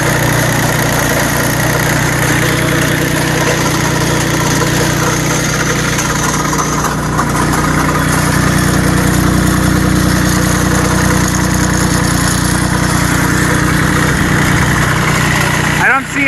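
The diesel engine of a Bolens Iseki H1502 tractor idles steadily after a cold start in snowy weather, a loud, close, continuous vibrating drone that holds an even rhythm throughout.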